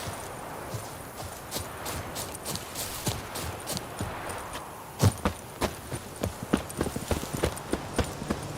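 Roach, a horse in The Witcher 3: Blood and Wine, clip-clops along with steady hoofbeats, a rapid rhythmic run that grows sharper and closer in the second half over a continuous outdoor ambience.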